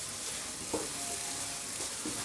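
Fried karela (bitter gourd) being stirred through daal masala in a pan, a steady low sizzle with a few soft scraping strokes of the spoon, fairly quiet and close.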